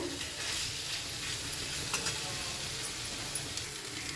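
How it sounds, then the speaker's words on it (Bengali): Aloo posto, potatoes in poppy seed paste, being stirred in a hot pan, giving a steady close sizzle with soft scraping strokes throughout and no talking. "আমি একবার লেড়ে দেবো"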